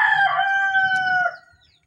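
Chicken in the Minecraft video game giving one loud, close crowing cluck call that trails off, with no talk over it.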